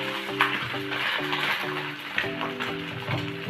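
Egg frying in a pan, a soft continuous sizzle with a few light scrapes of a spatula, heard beneath background music with sustained tones.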